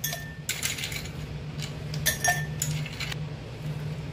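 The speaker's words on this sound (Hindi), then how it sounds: "अब हम इनमें डालेंगे आइस" Ice cubes clink and knock into two glasses of lemon shikanji in several bright, separate taps over a low steady hum, fairly close and quiet, with no talk.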